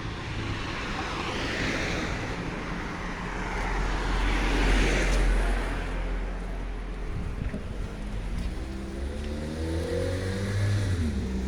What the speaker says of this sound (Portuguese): Às vezes aqui passam carros e eu faço algumas pausas aí para que não atrapalhe no áudio